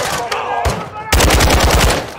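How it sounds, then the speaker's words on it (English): Three-round burst gunfire from Modern Warfare 2 on PS5: a first sharp shot, then a dense run of loud, rapid cracks in quick clustered bursts, close and unbroken by talk. "What is up with them and their three-round burst guns?"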